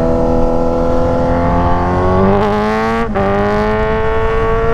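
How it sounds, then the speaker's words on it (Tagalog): A Toyota HiAce van's engine revs loud and close, its pitch climbing steadily, then briefly dropping before rising again, with no talking over it. "Kailangan may rev eh, diba?"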